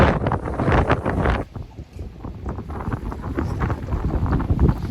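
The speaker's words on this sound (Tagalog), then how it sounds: "Lakas ng hangin." Strong wind buffets the microphone in heavy, rumbling gusts at a bus station during snowfall in Edmonton, easing briefly before roaring back.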